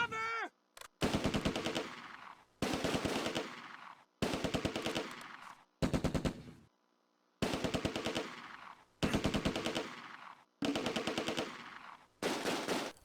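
Bursts of machine gun fire from a World War II tactical computer game crackle in long rapid strings, seven or so sustained volleys broken by short gaps, loud and close.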